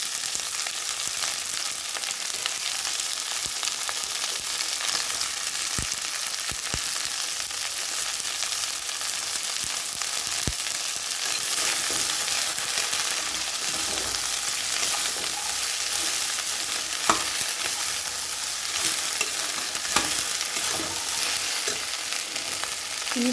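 Chopped okra sizzling in a pan with softened onion, a continuous bright frying hiss broken by scattered scraping and clicking as a spoon stirs it, close and steady, with no talking.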